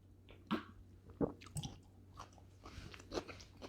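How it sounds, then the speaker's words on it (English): A cocktail onion is bitten and chewed close to the mouth, giving a few crisp crunches followed by softer wet chewing, fairly quiet against a low background hum. "I've never had one of these cocktail onions, so pray for me as I eat one."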